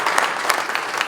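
A short, dense burst of audience applause at a ceremony in Lualaba, Congo, with quick overlapping claps that stay even from start to finish.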